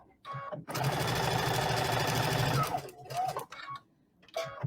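A sewing machine stitches paper-pieced quilt fabric in one steady, loud, rapid whirring run of about two seconds, then stops with short mechanical clicks and a brief final burst.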